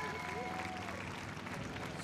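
Crowd at a beach volleyball open in Belmar, New Jersey, applauding and cheering steadily as a dense wash of clapping and voices, with some announcer-like talk over it.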